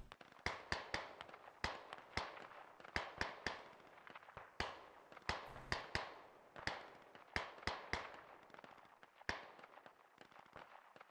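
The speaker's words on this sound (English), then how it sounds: "The guys from the hill are actually shooting." Distant gunfire from players on a hill in a Squad Ops one-life event, heard as a long run of sharp, irregular cracks and pops that bunch into rapid volleys and then thin out, with no talking over it.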